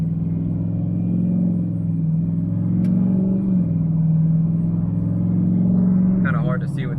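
An LML diesel pickup truck fitted with a 65mm Wold Fab turbo and running tune 5 drones steadily from inside the cab on an interstate, a loud low rumble that rises slightly midway and then eases off near the end.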